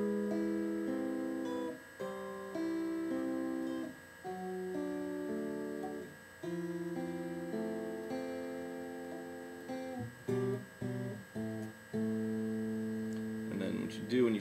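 Guitar plays a song from start to finish, a steady run of picked chord notes and arpeggios at moderate volume, with short breaks between phrases and a brief louder flourish near the end.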